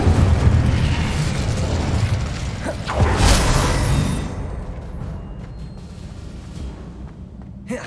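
Incendio fire spell cast in Hogwarts Legacy on PS5, a loud burst of roaring flame and booming blast that swells, then tails off into a fading crackle with game ambience beneath.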